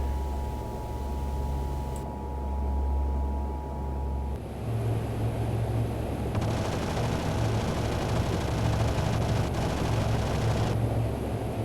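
AC-130J Spectre gunship weapons firing in DCS World, a steady engine drone giving way to a loud, continuous rattle of rapid gunfire that holds through the rest, with no voices.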